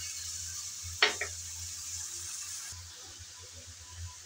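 Bottle gourd peel and potato frying in oil for a gourd-peel dish, giving a steady soft sizzle with one sharp stirring scrape near the start. The sizzle fades a little partway through, and no one speaks.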